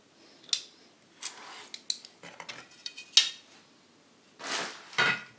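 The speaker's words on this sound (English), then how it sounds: "I'll just cut it here. And I'll use a normal Stanley." A Stanley knife cuts a thin membrane for a homemade ribbon tweeter in short, sharp scraping strokes and clicks, close up and fairly quiet, with brief pauses between cuts.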